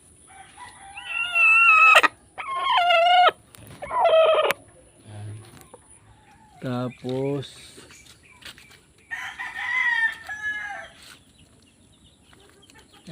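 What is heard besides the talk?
chickens clucking, laying hen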